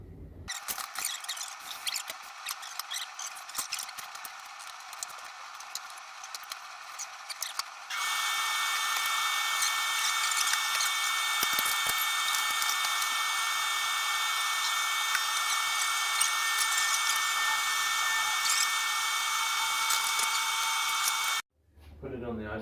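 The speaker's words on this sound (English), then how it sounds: "Put it on the ice cream maker, add the simple syrup, lemon juice and lemon zest, put the top on, put the beater in with a stirrer, and away we go" An ice cream maker churns lemon sorbet made with simple syrup, lemon juice and lemon zest. After a stretch of buzzing clatter, a loud, steady motor whine runs for about fourteen seconds and then cuts off abruptly.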